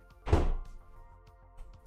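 A door slams in a video game prototype, one loud, close thud that fades quickly into near-silence with faint background clicks.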